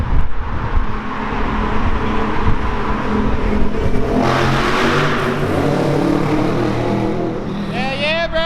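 A Duramax diesel truck drives past outdoors on a street, its engine rumbling and revving loudly close by and swelling as it passes. People talk over it.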